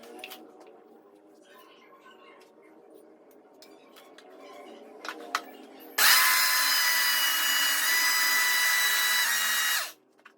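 An electric grinding machine mills rice into flour, starting abruptly as a loud, steady roar that runs about four seconds before cutting off, preceded by quieter household movement.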